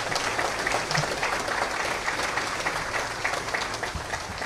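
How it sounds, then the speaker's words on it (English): A press conference audience breaks into sustained applause, steady clapping filling the room at a loud, even level without pause. "if we can give them a round of applause"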